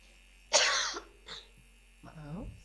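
A single harsh cough, followed by a short throat-clearing sound and a brief vocal grunt, close to the microphone.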